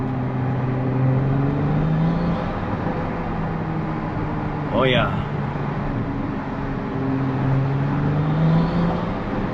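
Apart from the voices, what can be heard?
sports car engine revving after downshift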